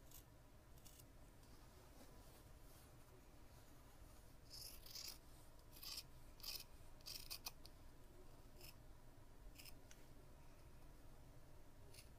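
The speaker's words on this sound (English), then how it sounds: "I'm going to cut on the line and use my seam ripper to get that opening started" Fabric is cut along a marked line while a seam ripper opens the slit, giving faint, crisp snips and soft rasping scrapes in short clusters against a quiet room hush.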